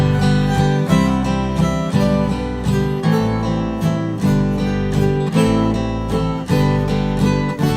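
An acoustic guitar strums a classic Irish tune along with a slow backing track, a steady rhythmic pulse of chords with a bass line underneath, loud and close, no voices.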